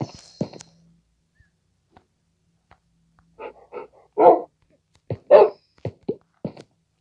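A dog in the Minecraft video game barks in short yips and whimpers, a few sparse sounds early and then a quick cluster of louder barks near the end, with no talking over them.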